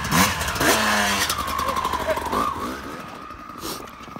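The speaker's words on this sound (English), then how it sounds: "full sending it on the dirt bike" A dirt bike is ridden hard on dirt, its engine revving loud and close with rising and falling pitch as the rider shifts and throttles. The engine fades a little toward the end, and voices are faintly mixed in.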